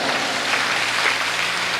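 Steady, loud applause from an audience at a Hindi comic poetry recital (kavi sammelan), a continuous dense clapping wash filling the whole stretch.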